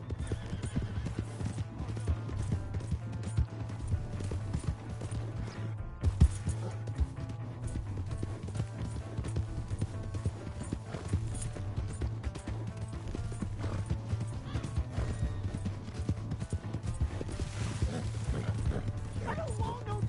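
Horse hooves clip-clopping in Red Dead Redemption 2, a steady rhythmic trot under game music, with voices talking and shouting and a horse whinnying at points.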